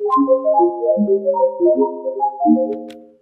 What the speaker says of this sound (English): a little bit of release, which gives me these almost like little water droppy type sounds.